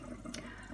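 Kefir water pours through a funnel in a steady, close liquid stream, with a brief brighter splash partway through, at a low overall level.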